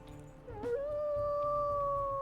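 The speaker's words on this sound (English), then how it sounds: "She has some of the loneliest howls you can get" A wolf pup in WolfQuest lets out a lonely howl: a short wavering onset, then a steady, drawn-out plaintive tone held close and clear to the end.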